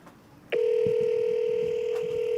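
A telephone line tone on an outgoing call that goes unanswered before voicemail picks up: a sudden steady sustained tone starting after a quiet hiss, continuing unbroken to the end.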